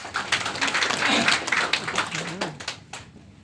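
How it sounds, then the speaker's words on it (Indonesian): Scattered clapping builds into a short burst of applause in a crowded room at a housing development event, with voices talking over it before it fades out. "Tepuk tangan dulu buat ya."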